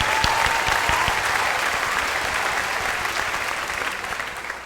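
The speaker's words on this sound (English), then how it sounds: "Let's give you a round of applause for that." Audience applause at a 6th grade ceremony, steady and sustained clapping from a large crowd that fades slightly toward the end, with no talk over it.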